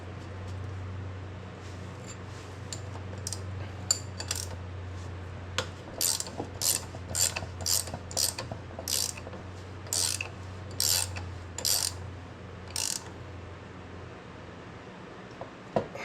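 Ratchet tightening a bolt on the fork of a Honda 350X motorcycle, a run of sharp rapid clicks in short bursts over a steady low hum, fairly close.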